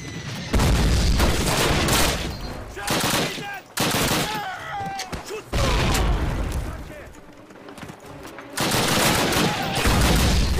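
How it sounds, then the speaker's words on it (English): Old Call of Duty 1 battle in the Warsaw tank factory, with heavy machine-gun bursts and booming blasts from a grenade explosion amid sustained gunfire. Several loud volleys are separated by brief lulls, and faint voices sit beneath. "Crap grenade."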